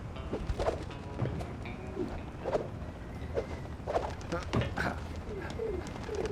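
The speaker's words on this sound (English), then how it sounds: "Hello, pigeons. I'm not here to hurt you." Pigeons coo repeatedly in Sly Cooper: Thieves in Time, soft throaty calls recurring every second or so over a steady ambient bed, with faint steps and no talk during the clip.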